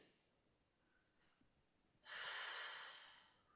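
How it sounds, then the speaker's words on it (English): In a breathing exercise class, a long forceful exhale through pursed lips follows a quiet stretch, near and clear, fading over about a second and a half. "we're trying to take some of those deeper breaths in and breathe out through that invisible straw as we breathe out"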